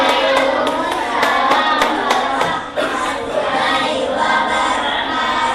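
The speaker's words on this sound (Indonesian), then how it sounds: "Kita berikan tepuk tangan dulu untuk presentasinya" Applause for a class presentation by a student group in an elementary school Islamic studies lesson, a roomful of hands clapping steadily and briskly for several seconds, close and fairly loud with faint voices beneath.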